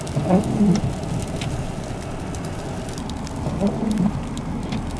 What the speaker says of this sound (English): 2 inches turning to flipping rain